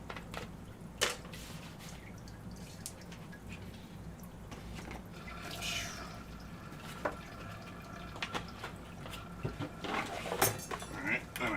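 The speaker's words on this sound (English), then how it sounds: "So, top tank's draining, and I'm doing this." Water drains from the top aquarium tank during a water change, a steady low rushing flow with scattered drips and splashes into buckets, moderately loud throughout and mixed with occasional clinks.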